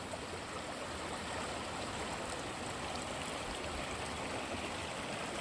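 Running water of a stream at Causey Arch in County Durham, a steady, full rushing and gurgling flow heard alone, close and continuous without pause.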